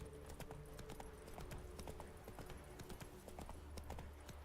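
Roach the horse galloping in The Witcher 3: Wild Hunt, a fast, even run of hoofbeats at a low level, steady across the clip with no voices.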